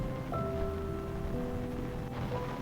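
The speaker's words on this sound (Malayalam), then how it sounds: "അതിനിടയിൽ മഴ കൂടിയും കുറഞ്ഞുമൊക്കെ പെയ്തുകൊണ്ടേയിരിക്കുകയാണ്" Steady rain falls over village paddy fields, a continuous soft hiss close by, with a few faint tonal bird-like calls above it and no talking.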